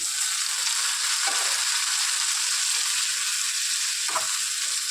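Onions and chopped tomatoes frying in a pan give a loud, steady sizzle with a dense hiss that holds throughout, with a couple of soft scrapes of stirring near the start and end.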